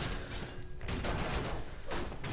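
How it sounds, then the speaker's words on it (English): A Carrion Swarm spell cast in a fantasy battle game gives off a dense, rustling wash of noise in swelling waves, steady and fairly loud across a couple of seconds. "So we've got a Carrion Swarm."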